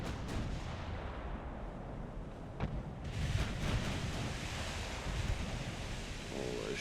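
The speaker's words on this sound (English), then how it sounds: "Shots are getting awfully close." Battleship shells landing close by in the naval game Ultimate Admiral: Dreadnoughts, a continuous dull roar of booming impacts and sea-like rumble with a sharper crack partway through.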